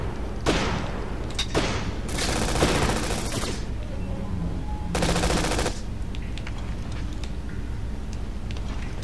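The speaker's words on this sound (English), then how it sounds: "What are they shooting at?" Gunfire in the video game Syphon Filter: Logan's Shadow, with bursts of automatic shots and broadband blasts over a steady low game rumble, loud and close with no speech.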